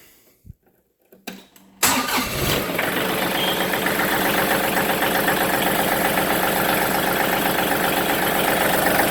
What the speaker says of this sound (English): turn the tractor on.